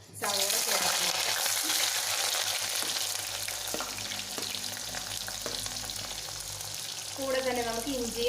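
Chopped onions hit hot oil with fenugreek seeds for a Kerala-style fish curry, giving a loud, continuous sizzle with occasional stirring scrapes of a spoon against the pan.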